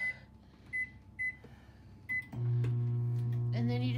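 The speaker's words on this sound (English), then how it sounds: "Going to the microwave for about 20-25 minutes." A microwave oven is set and started: four short, evenly spaced keypad beeps, then the steady loud hum of the running oven, with a brief clatter near the end.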